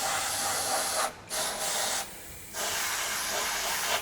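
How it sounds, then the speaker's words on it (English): Bursts of aerosol graphite lubricant spray hiss into the holes of a door lock mechanism in close succession, a long spray broken by two short pauses, loud and close with no voices. "So spray into each hole on the working part of the mech."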